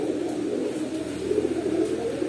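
Domestic pigeons at a pigeon seller's stall coo steadily in a soft, low, continuous murmur close by, with no talk over it.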